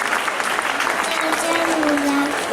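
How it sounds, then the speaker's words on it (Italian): Outdoor crowd in a Bonorva town square claps for two young girls in traditional dress from a folk group, a thick continuous patter with voices audible under the clapping. "Un applauso per queste due signorine."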